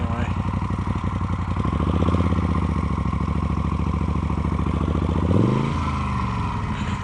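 A motorcycle rides on through rain onto a muddy road, its engine running steadily and close with a mid-pitched drone that rises briefly near the end, as if revving or changing gear.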